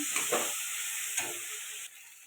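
Cauliflower, potatoes and tomato are sautéed in a pan with salt, making a soft, close sizzle broken by a few quick stirring scrapes.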